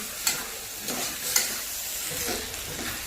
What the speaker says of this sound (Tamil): இந்த எண்ணெயிலேயே நல்லா கிளறி விட்டுக்கலாங்க